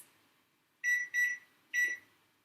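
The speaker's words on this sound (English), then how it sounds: "Set the timer for 20 minutes." Three bright, clipped electronic beeps from an oven timer being set, two close together and then a third after a short pause, loud and clear over a quiet room with no talking.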